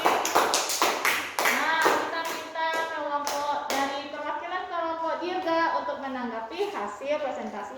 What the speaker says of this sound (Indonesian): Beri tepuk tangan untuk kelompok Bibi